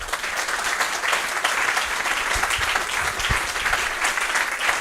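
A church congregation claps steadily together in a burst of applause, dense and continuous, filling the room for several seconds with no voice rising above it.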